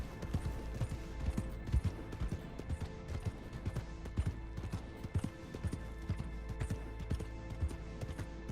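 Steady clip-clop of horse hooves on hard ground in the video game Red Dead Redemption 2, an even rhythmic trot repeating close by over a low hum, with no talking.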